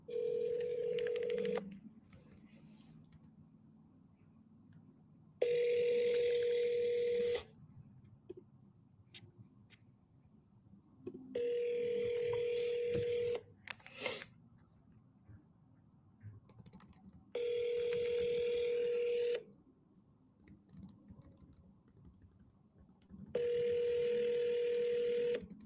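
Telephone dialing tones sound during a run of cold calls: five loud steady beeps, each a few seconds long, spaced at regular intervals, with faint clicks and low room noise between them and no talking.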